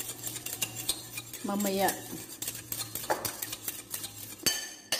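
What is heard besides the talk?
utensils mixing salad sauce in a bowl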